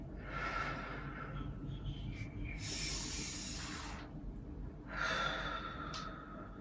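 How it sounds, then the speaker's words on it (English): After an intermediate home workout for skaters, someone takes slow, deep recovery breaths close by: three long airy exhalations separated by quiet pauses, with no talking. "I'm just going to be leaning onto this front ankle and giving it a little bit of a stretch while I catch my breath, and just take a few deep breaths"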